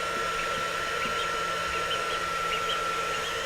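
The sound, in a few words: hair dryer blowing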